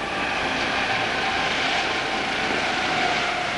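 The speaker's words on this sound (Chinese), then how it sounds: "随住132架各种战机在典礼上空飞过" Military jets fly over a National Day parade in Beijing, a steady, continuous broad roar filling the whole stretch without breaks and with no voices.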